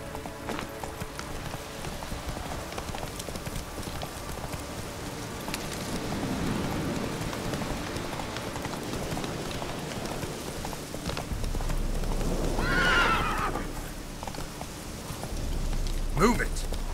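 Horse in The Witcher 3 video game, rhythmic clip-clop of hooves galloping at moderate level under ambient game sound, with a brief higher whinny-like cry near the end; a voice speaks briefly.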